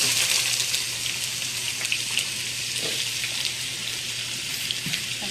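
Onions frying in hot coconut oil in a pan over high heat give a steady, close hissing sizzle, strongest at first, with no voices.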